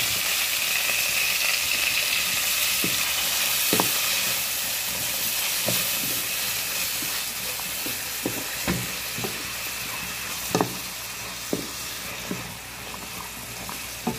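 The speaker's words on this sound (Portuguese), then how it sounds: "Vou deixar refogar mais um pouquinho e já veio com o nosso estalinho" Vegetables sautéing in a pan, a steady close hiss of frying with scattered sharp pops and crackles spread across the whole stretch, no talking.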